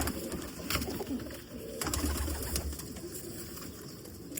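Pigeons cooing nearby in Lahore, low throaty repeated coos rolling on over a soft background murmur.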